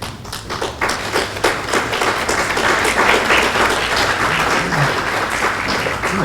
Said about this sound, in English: I got the claps.